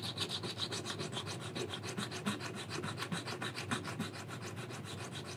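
Steady rhythmic rasping of 80 grit sandpaper with mineral spirits rubbed back and forth on a metal endoskeleton arm part, close and continuous with quick even strokes, no voices.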